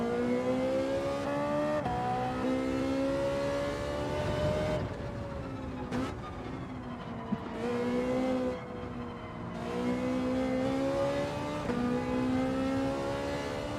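A Ferrari racing car in Gran Turismo 7 revs through rising gear pulls, its engine whine climbing, dropping at shifts, briefly cutting out, then building again, loud and continuous with faint tyre noise.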